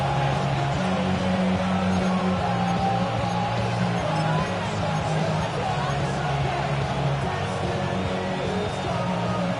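A football stadium crowd roars steadily with a loud, dense hubbub heading into third down, sustained throughout with no distinct breaks.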